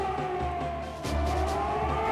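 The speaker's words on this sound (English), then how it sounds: "Now the sirens are sounding for the first time." Air raid sirens wail over Baghdad at the start of a wartime bombing, a loud sustained tone that dips briefly and then swells again, continuous and without talking.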